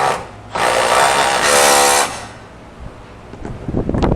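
On a 2014 Jeep Grand Cherokee, a power tool runs down two 13mm bolts in one loud, close burst of about a second and a half. Quieter clanks and handling noises follow.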